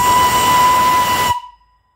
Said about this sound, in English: Nice 2-inch whistle, all brass. I'll blow it here